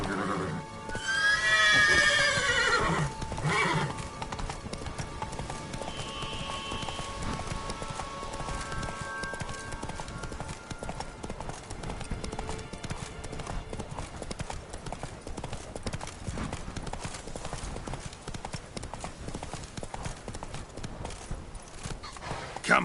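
Roach, a horse in The Witcher 3: Wild Hunt (Blood and Wine DLC), clip-clops along with steady hoofbeats and lets out a whinny early on, set against a continuous game soundscape.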